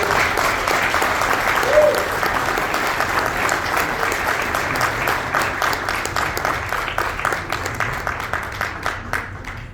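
An audience at a science symposium applauds a speaker with sustained, dense clapping that gradually thins out toward the end, and a few voices sound faintly beneath it.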